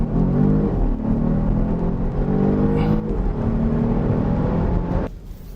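A Volvo XC60 T8 R-Design plug-in hybrid accelerating hard from inside the cabin: a loud, steady engine drone with a rising electric motor whir that climbs in pitch, easing off and dropping away abruptly near the end.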